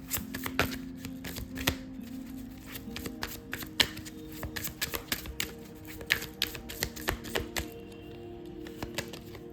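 Tarot cards shuffled by hand, with repeated crisp riffles and flicks and sharp taps as the deck is squared, close and without talk.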